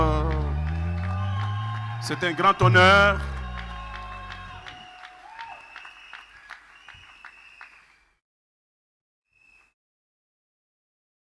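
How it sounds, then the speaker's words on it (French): Audience clapping at a wedding ceremony, a moderate wash of applause beneath someone speaking over a microphone, tapering off and ending in silence. "Continuons à applaudir"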